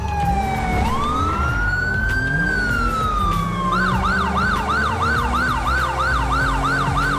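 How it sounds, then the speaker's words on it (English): A police car siren in GTA V with the LSPDFR mod sweeps up in a long rising wail, then switches to a fast, steady yelp, loud and close over a constant engine rumble. "I installed a different siren,"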